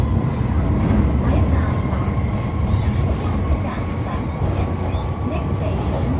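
Hong Kong MTR Kwun Tong Line M-Train running between Kowloon Bay and Lam Tin, with a loud, steady motor drone and rumbling wheel noise heard from inside a lightly occupied car.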